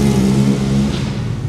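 A 2017 FGR Midalu 2500cc 240hp V6 Czech superbike engine revs up close and loud, a steady deep throbbing roar that eases slightly toward the end.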